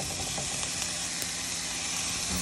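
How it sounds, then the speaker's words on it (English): Broccoli coated in spices sizzles in a hot frying pan with a continuous, close, crackling hiss and no talking. "The broccoli with all the spices on it, and now I'm going to put it into the frying pan."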